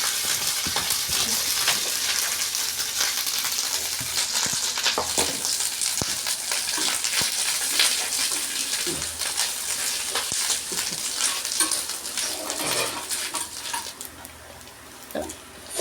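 Grated coconut fries in hot oil with mustard seeds, curry leaves and dried chillies, a dense, loud, steady crackling sizzle with occasional stirring knocks, heard up close for about sixteen seconds without talk.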